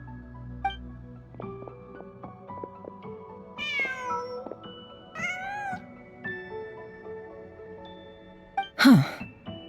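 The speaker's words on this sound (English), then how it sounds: "Just a cat." A cat meows in a snowy video game scene, a sharp, loud, rising-falling cry near the end, set against layered musical tones and soft game ambience with no talking.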